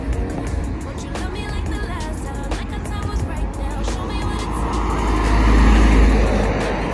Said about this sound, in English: ang dami-dami na pong in and out ng mga cars, mga pumapasok na sa kani-kanilang mga trabaho